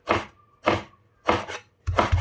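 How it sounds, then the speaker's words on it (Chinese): Heavy cleaver blows chopping pork hind leg meat into mince on a board, four separate thuds at roughly even spacing, the last one doubled, close up with no talk. "切好之后再用刀给它剁一下，剁成肉泥"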